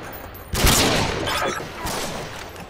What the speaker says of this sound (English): Thomas, stop shooting